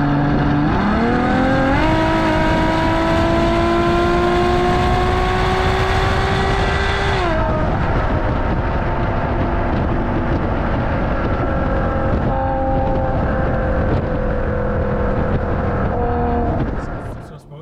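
A 2016 Ferrari GTC4Lusso with a naturally aspirated V12 of nearly 700 hp accelerates hard on the Autobahn, its loud engine note climbing steadily, then dropping at a gear change before droning on at high speed.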